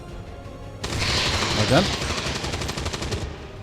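A headshot in XCOM 2 sets off a loud, sustained burst of rapid gunfire lasting several seconds, with a voice speaking briefly over it.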